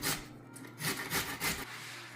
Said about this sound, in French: pour râper les carottes, ça prend une râpeuse comme ça